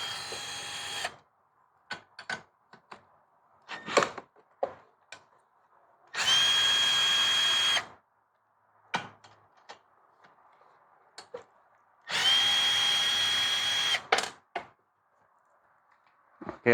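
A power drill works bolts out of a lawnmower engine in loud, close bursts of a couple of seconds each, with clinks and handling noises of parts and tools filling the pauses between them.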